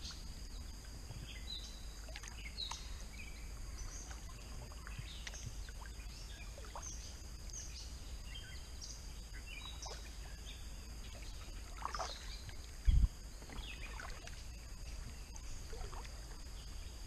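A kayak paddles quietly on Prettyboy Reservoir in the early morning, soft intermittent paddle dips and drips over still water, with faint birdsong in the background and one brief bump near the end.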